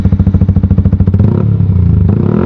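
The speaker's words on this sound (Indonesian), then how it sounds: "untuk yang penasaran sama suara knalpotnya dengerin di sini" Yamaha R15 V3 motorcycle with an aftermarket exhaust, blipped in a quick rhythmic run of sharp revs and then held at a steady rumbling rev, close and loud with no talking.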